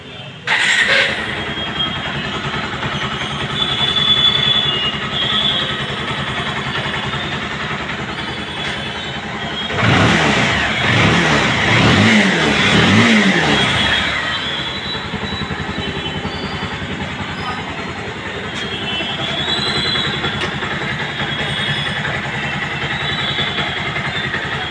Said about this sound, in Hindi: अपनी 220 हो चुकी है स्टार्ट। अब सुनते साउंड इसका अपन।